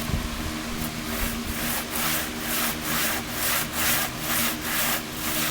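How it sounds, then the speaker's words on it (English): Steady back-and-forth hand sanding strips rust from a 1926 DL&W steel rail, a loud close-up rasping scrape in an even stroke rhythm about twice a second, with no talk. "I'm going to hand sand like this."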